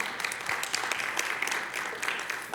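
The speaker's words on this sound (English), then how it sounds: "It sounds like we're going to go golfing here. There's golfing claps." An audience gives a light, polite smattering of golf-style claps at a conference welcome, soft and fairly distant, with no talking over it.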